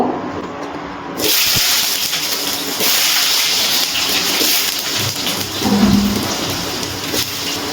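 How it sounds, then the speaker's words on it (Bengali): Potatoes frying in hot oil with salt and turmeric give a steady, loud sizzle that starts abruptly after a quiet second and runs on alone, with faint stirring clinks. "এবার আমি আলুগুলো ভেজে নেব।"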